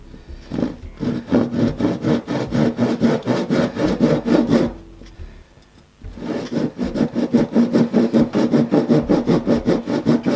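A hand saw cuts through wood in steady, rapid back-and-forth strokes, pausing briefly midway before resuming the same rhythmic rasping, close and loud.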